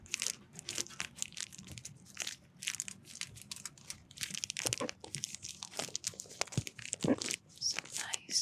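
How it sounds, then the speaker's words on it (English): Close crinkling, crumpling and tearing of material moved around the listener's head in an ASMR cigar session, in irregular crisp bursts with soft whispering mixed in. "Some nice crinkles all around your head."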